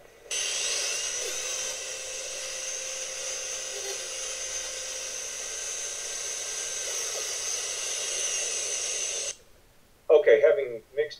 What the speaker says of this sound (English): We put half gallon of each, part A and part B, and we're going to go ahead and mix this up